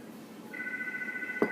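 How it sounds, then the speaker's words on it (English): A telephone rings softly in a room, a single sustained electronic tone starting partway through over low background noise, ending with a brief knock or click. "I gotta go answer the phone."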